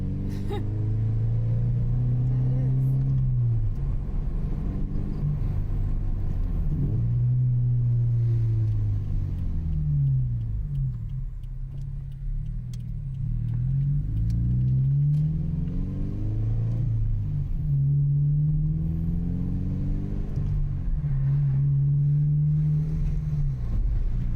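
A car exhaust with a Supertrapp WaveTech muffler in loud mode booms with a deep, droning resonance, rising and falling repeatedly as the engine revs up and eases off, loud and close.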